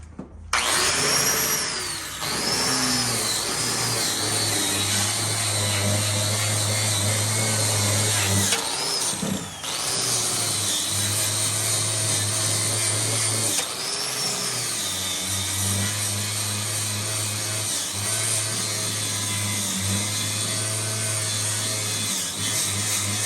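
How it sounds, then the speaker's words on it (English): A wire wheel on a power tool strips a car body panel, its loud, close, high-pitched whir grinding steadily in long passes with brief pauses and pitch dips as pressure changes, with no talking. "This wire wheel might work, but you got to wear protection because the little wires will fall out at high speed and pierce you."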